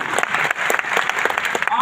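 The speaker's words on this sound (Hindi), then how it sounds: "तालियां तेज बजानी पड़ेगी" An audience claps at a distributor business presentation in India, brisk and fairly loud, with irregular bursts of hands across the room and a voice briefly cutting in near the end.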